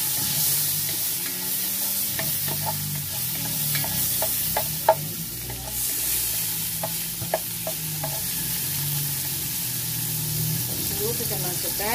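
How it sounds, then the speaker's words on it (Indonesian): Lemongrass and onion sauté in a pan with a soft, steady sizzle, broken by light clicks of a utensil stirring. "Kita tumis nih. Serai dan bawang sedikit."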